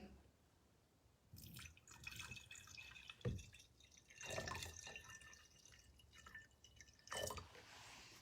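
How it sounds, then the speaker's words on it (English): Cups of water poured into a borax mixture in a container, coming as several quiet splashing pours with dripping and trickling between them, faint and close. "I'm going to go ahead and add my cups of water"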